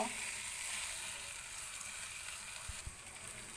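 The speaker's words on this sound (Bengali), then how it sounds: "আমার সব গুঁড়ো মশলা দেওয়া হয়ে গেছে। এবার এটাকে খুব ভালো করে ভেজে নিব।" Ground spices frying in hot oil for a Bengali prawn malai curry, a steady soft sizzle throughout with a couple of faint low knocks from stirring near the end.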